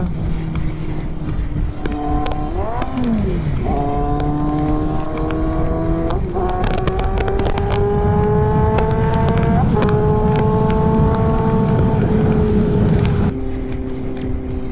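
A high-revving Kawasaki Z800 sports motorcycle engine climbs through the gears with sharp rising whines and gear shifts, loud and close, accelerating from first gear.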